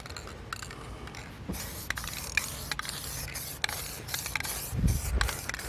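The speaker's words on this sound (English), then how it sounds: "So maybe I'll spray down a little bit through this grill" SEM Bumper Coater medium gray aerosol spray paint hisses in short bursts through a car's front grill, crisp repeated sprays with clicks and rubbing between them, no talking.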